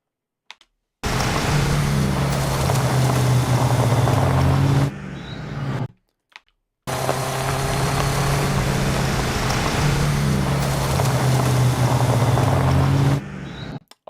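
A truck engine rumbles loudly and continuously for several seconds as it drives off into dust, cuts out abruptly, then the same gritty driving noise returns.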